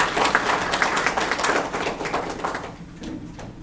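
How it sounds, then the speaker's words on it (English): A small class audience claps for a guest speaker after a chemistry lecture. The applause comes as sparse, close hand claps that thin out and fade near the end. "Let's give her a round of applause."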